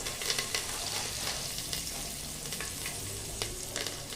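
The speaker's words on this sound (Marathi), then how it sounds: "नंतर याच्यामध्ये थोडासा टाकणार आहोत कढीपत्ता" Fresh green curry leaves sizzling in hot oil with turmeric, a dense crackling hiss, close and steady, with a few sharp pops.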